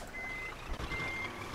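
Reversing alarm beeps in a steady, continuous pattern from a truck turning around in Scania Truck Driving Simulator, sounding over a constant engine rumble.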